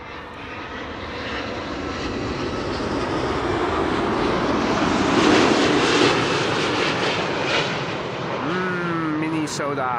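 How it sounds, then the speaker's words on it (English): A Delta Airlines airliner arriving to land at Amsterdam Schiphol roars overhead, its jet noise building to a loud peak midway and then easing off, with a faint whine near the end. "this is Delta Airlines flight 162 arriving from Minneapolis"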